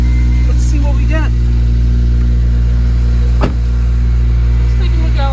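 A 2008 Honda Civic Mugen Si idles with a loud, steady engine hum while its AC runs, with a brief sharp click partway through and someone talking over it.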